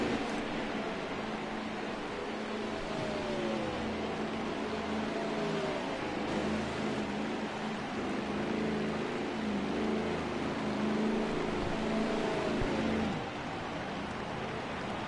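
Race car from the NHRL National Series at Dover pulling out of pit road after a four-tire stop, its engine a steady loud broadband roar with rising whines of acceleration throughout, no voices.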